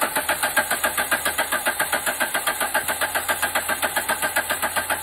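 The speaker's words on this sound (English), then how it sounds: "You'll hear it again, listen to the cadence of the engine rotation" A car engine turning over on its starter motor without catching, a steady rhythmic chug of even compression pulses, close and continuous throughout.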